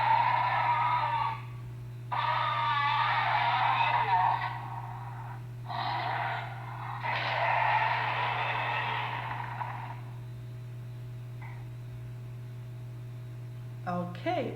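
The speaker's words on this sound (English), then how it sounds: "Chimpanzee." A chimpanzee calls in a series of breathy, raspy hooting bursts, several loud runs separated by short pauses, over a steady low hum, then a quieter tail.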